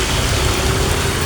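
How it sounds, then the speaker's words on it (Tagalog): Heavy rain pours in a dense, loud, continuous roar with no other sounds over it. "Grabe nga ulan."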